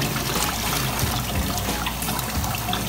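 Romaine lettuce being washed under running tap water, a steady continuous trickle and splash close by with no talking.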